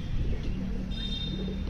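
Pet pigeons cooing low and soft over a rumbling background while they feed on chickpeas, a steady murmuring coo close by.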